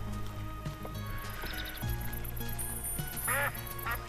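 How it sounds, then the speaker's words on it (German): A duck quacks a few times in the Minecraft video game, a short burst of quacks near the end that stands out over steady, droning in-game background sound. "Eine Ente."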